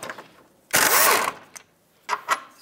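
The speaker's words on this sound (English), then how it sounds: "with an 18 millimeter, I'm gonna remove this top bolt." Ratchet with an 18 mm socket loosening the top rear shock absorber bolt on a 2006-2011 Chevrolet HHR: one loud, close burst of rapid clicking lasting about half a second, followed later by a few short, softer clicks.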